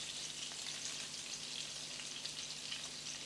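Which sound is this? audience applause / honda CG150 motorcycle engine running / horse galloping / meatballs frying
meatballs frying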